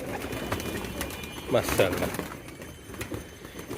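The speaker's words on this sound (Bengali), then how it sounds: "মোটা বড় সাইজের সব কবুতর বাহিরে দেখেন কি সুন্দর লাগতেছে" Large, plump pigeons coo outdoors, with a couple of low cooing calls standing out briefly over steady background noise and faint rustling.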